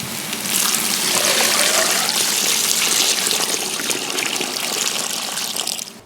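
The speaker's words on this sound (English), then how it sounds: "once the water's added, I make sure not to fill it to the top" Water gushes steadily into a stockpot holding aromatics, a loud, continuous pouring that starts abruptly and runs for several seconds before tapering off near the end.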